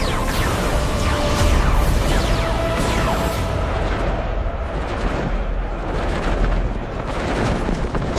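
Heavy artillery fire and explosions in a film battle scene, a loud continuous barrage of booms and blasts with debris and whistling streaks, no clear speech.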